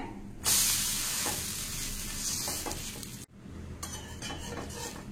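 A cowpea adai is turned over on an oiled hot pan, with a bright crackling sizzle, light spatula scrapes and a metallic clack midway before the frying hiss resumes.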